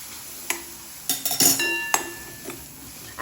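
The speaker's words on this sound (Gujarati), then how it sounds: "મસ્ત ભાજીને લોટ અને મરચું મિક્સ કરી દઈશું." Metal spoon clinks and scrapes against a pan while radish and fenugreek leaves are stirred with gram flour and chili, a few sharp irregular taps and rattles close by, with no talking.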